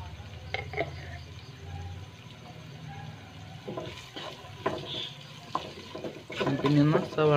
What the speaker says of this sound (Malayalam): സവാള നന്നായിട്ട് വഴറ്റി വരുന്നവരെ ഇതൊന്ന് ഇളക്കി കൊടുത്തുകൊണ്ടിരിക്കുക.